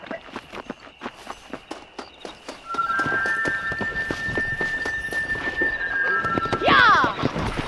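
A horse in the Red Dead Redemption video game trots, then breaks into rapid clip-clop hoofbeats and gives a loud whinny near the end, with faint voices in the background.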